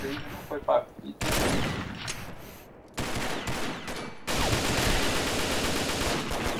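Bursts of automatic gunfire ring out in the online shooter Combat Arms, coming in sharp clusters separated by brief gaps, fairly loud and close, with no voices over them.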